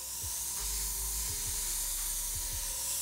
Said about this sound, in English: All I did was lay my airbrush against my clothespin at an angle.